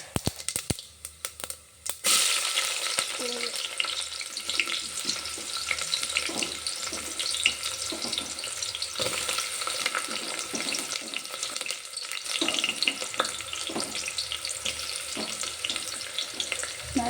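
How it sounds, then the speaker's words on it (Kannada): Masala spices frying in hot oil for upma masala rice give a steady sizzling hiss, preceded by a couple of sharp clatters at the start, with faint stirring scrapes throughout. "ಇವಾಗ ಈ ಮಸಾಲೆಯನ್ನು ನಾನು ಈ ಎಣ್ಣೆಗೆ ಹಾಕ್ಕೊಳ್ತಾ ಇದ್ದೀನಿ"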